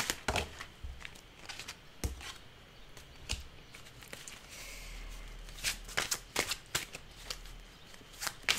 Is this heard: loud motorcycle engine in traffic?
no